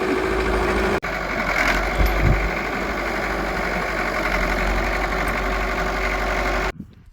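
A farm tractor engine idles in a steady, loud, even rumble close by, running without a break for nearly seven seconds before cutting out abruptly near the end.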